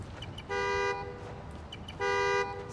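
Two sustained car horn honks in the video game Spider-Man: Miles Morales, each about half a second, blare over a low rumbling background with a short gap between them.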